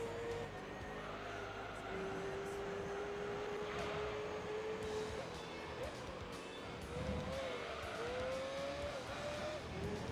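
A race car engine in Gran Turismo 3 drones steadily at high revs, its pitch sliding up and down through gear changes, with a voice talking over it throughout.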